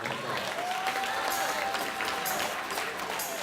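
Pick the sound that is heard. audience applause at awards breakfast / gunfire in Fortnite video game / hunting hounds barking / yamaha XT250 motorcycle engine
audience applause at awards breakfast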